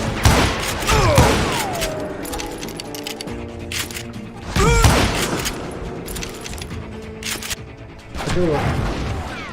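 Dynamite blasts and gunfire in the Western shooter Call of Juarez Gunslinger: several loud, close bursts with metallic rattles and sharp shots, spaced a few seconds apart, with someone speaking Portuguese between them.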